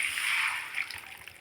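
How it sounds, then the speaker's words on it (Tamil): Water is poured into a cooking pan of mango pieces, giving a brief soft splashing hiss that fades toward the end, fairly close and moderately quiet. "இப்போ இதில் கொஞ்சம் தண்ணி சேர்த்துடலாம்."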